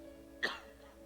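A preacher gives a single short cough, close and fairly loud, in the middle of a Portuguese church sermon, with a low steady hum behind it.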